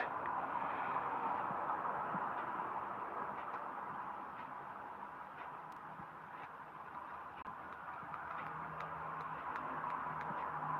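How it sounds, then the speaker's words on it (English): Traffic passes outside, a faint, steady wash of car noise that swells and fades slightly, heard from indoors with no talking. "You can hear the cars outside."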